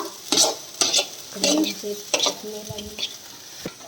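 Curry leaves sizzling in hot oil in a pan and stirred, sharp crackling spits and scraping stirs coming in quick close bursts with a steady frying hiss underneath.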